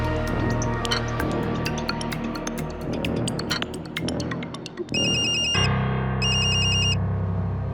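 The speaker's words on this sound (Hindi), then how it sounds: "आपके मोबाइल में बार बार किसी और का कॉल आ रहा है" A mobile phone rings for an incoming call, a bright repeating electronic ringtone melody, with a louder, higher chiming ring pattern near the end in two bursts.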